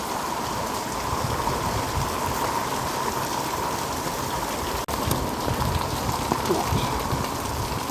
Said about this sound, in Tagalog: It's raining talaga.